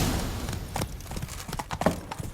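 Horse hooves clip-clopping at a steady trot while riding in The Witcher 3, close and moderately loud, with no talking over it.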